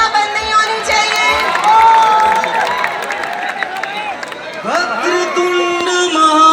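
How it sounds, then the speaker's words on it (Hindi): An audience at a Samsung employee achievement celebration claps and cheers to welcome a performer, a dense, loud wash of applause and shouts, while an announcer's voice carries over it throughout. "तो एक बार जोगिंदर का जोरदार तालियों से स्वागत कीजिए।"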